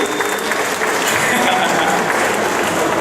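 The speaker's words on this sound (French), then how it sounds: "Un peu d'applaudissements pour John, s'il vous plaît." Sustained, dense audience applause at a film actors' meet-and-greet, loud and steady throughout, with voices mixed into the crowd noise.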